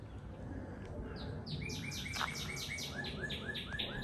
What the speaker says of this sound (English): Hear that bird behind me.